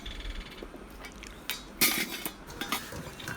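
Metal pot and lid clatter as a pot of puttu flour is covered, a few sharp clinks and knocks standing out against quiet kitchen room tone.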